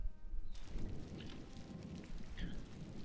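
Steady rain hisses in the World War 2 strategy game Strategic Command World War 2: World at War, a dense continuous wash with faint chirps above it.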